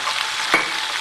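Garlic sautés in leftover hot oil for chicken curry, giving a close, steady sizzle and crackle throughout.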